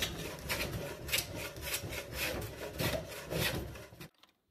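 Hand plane shaving high spots off a maple flask box for metal casting, a series of close, rasping wooden strokes in uneven rhythm that stops abruptly at the end.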